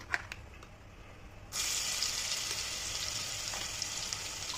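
Onions and spices such as cinnamon and cloves frying in hot oil for a jackfruit biryani, starting as a loud, steady sizzle after a quiet opening with light clinks, and holding a continuous hiss to the end.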